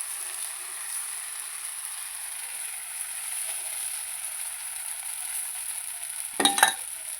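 Pesarattu batter, a green gram crêpe, sizzles on a hot pan for breakfast: a steady, soft hiss with a thin high whine, broken near the end by a short louder scrape or splatter.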